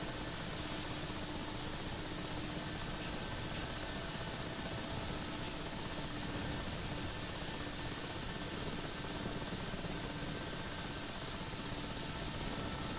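A helicopter flies in the DCS combat flight simulator on a cargo sling-load mission. Its engine and rotor give a constant, dense broadband roar at an even level throughout, with no talk over it.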